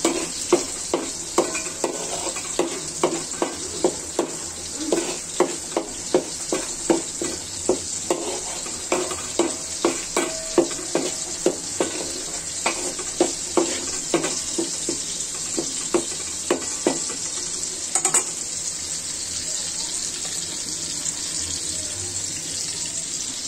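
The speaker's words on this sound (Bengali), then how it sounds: "এখানে আদা আছে, রসুন আছে, এগুলো ভালো করে কষিয়ে নিতে হবে" Ginger and garlic fry in a pan for a koi fish recipe, a steady sizzle under repeated clacking strokes of a spatula stirring and scraping at a regular rhythm, close and alone without talk.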